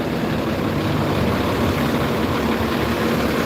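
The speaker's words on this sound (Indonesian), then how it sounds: "Kita akan bandingkan ya suara mesin." A bus's heavy diesel engine idles nearby at a bus terminal, a continuous low throbbing rumble at a steady level with no voices.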